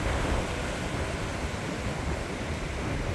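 Rough sea with large waves and surf breaking on a choppy day, a steady loud roar of churning water and spray that continues unbroken, with no voices.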